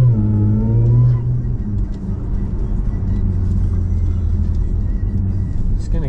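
Supercharged Audi A6 with an APR Stage 3 kit idling as the engine warms, a steady deep rumble that drops slightly in pitch after a second and holds a constant drone with faint whir above.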